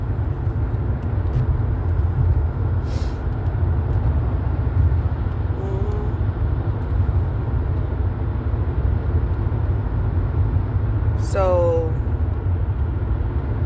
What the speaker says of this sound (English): there's quite a bit of traffic